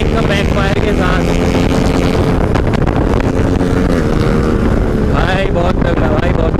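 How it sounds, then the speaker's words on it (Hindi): A KTM RC 390 motorcycle engine roars loudly and continuously as it is ridden, with changing revs, wind rushing over the microphone and popping backfire bursts mixed in. "बाकी साउंड देखो अपनी बाइक का बैक फायर के साथ"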